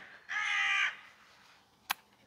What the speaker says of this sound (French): Il y a plein de corbeaux qui sont en train de passer